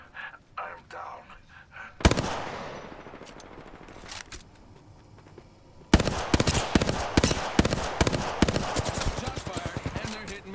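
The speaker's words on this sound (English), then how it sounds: "Shots fired. And they're hitting me. Taking fire." Bursts of gunfire in the shooter game Apex Legends, rapid crackling volleys that come and go: a sharp onset around the second mark, then a dense stretch of repeated loud shots near the end.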